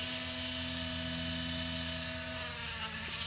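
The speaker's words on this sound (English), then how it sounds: "We get the Dremel on" A Dremel rotary tool with a buffing wheel polishes a button from a Zenith 7S529 radio, giving a steady, close, high-pitched whine that holds for the whole stretch without pause.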